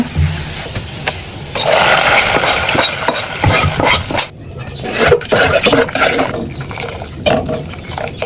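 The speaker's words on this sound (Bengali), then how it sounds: "ডালের ফ্রং ভাজা হয়ে গেছে এখন আমি ডালের ভিতরে ঢেলে দেবো" A burst of loud sizzling and bubbling as a hot oil tempering is poured into thin lentil soup, then stirring and clinking with a few scattered splashes.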